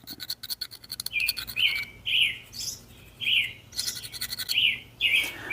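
A bird chirps again and again in short bright calls, close by, while bursts of scratchy clicking come and go beneath it.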